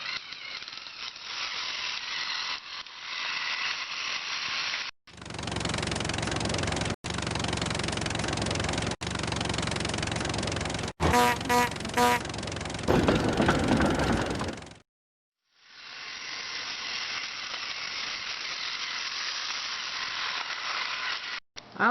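Motorized Thomas Trackmaster toy Kevin running on plastic Trackmaster track, a steady close whirring motor with rattling, stopping briefly and then resuming.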